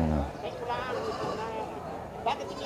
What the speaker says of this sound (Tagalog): Meron din yung isang tupa